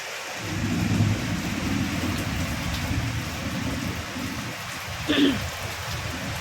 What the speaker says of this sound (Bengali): এমনভাবে মেঘ ডাকছে এখনও এখনও বৃষ্টি হয়ে যাচ্ছে